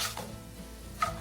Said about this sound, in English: I'm going to remove the tofu to my skillet